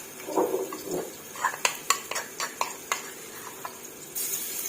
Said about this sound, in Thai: พี่น้องมาลงมือผัดกันเลยค่ะ